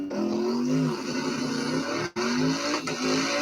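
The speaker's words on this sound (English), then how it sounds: "Car is on the move." A car moves off at a film shoot, an engine hum with a rising tone and a short dip partway through, steady and fairly close.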